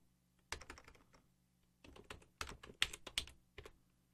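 Keys clack on a computer keyboard in quick irregular bursts, with a pause before another run of rapid keystrokes.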